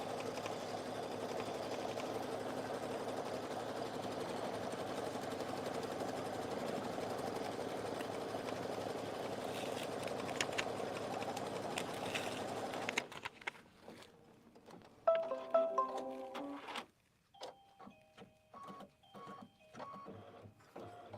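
An embroidery machine stitches a placement line in white thread, a steady close mechanical whir and rapid needle chatter lasting about thirteen seconds before stopping, followed by scattered handling clicks and rustles.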